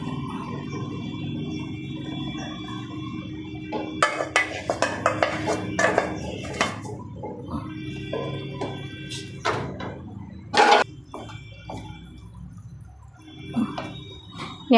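Drumsticks tipped into a cooking pot and stirred for a Gujarati dhaba-style drumstick curry, with a steady background of pan sizzle under irregular metallic clanks and scrapes of a spoon against the pot.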